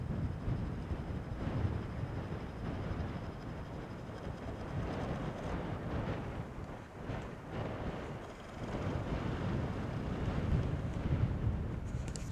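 Steady wind gusting across the microphone, a continuous low rumbling buffet that swells and eases over several seconds.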